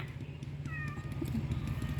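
A cat gives a short, faint meow in a quiet home setting, with low background rumble and no speech.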